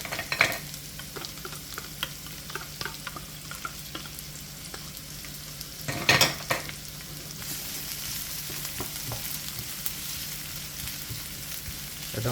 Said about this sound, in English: And now we're going to add our onions.